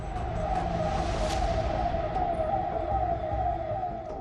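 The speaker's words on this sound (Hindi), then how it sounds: "सन्नाटे को चीरती हुई पुलिस की गाड़ी के सायरन की आवाज आ रही है।" A police car siren wails steadily over a low background rumble on quiet lockdown streets in Amravati, sounding somewhat distant and continuous, with no voices present.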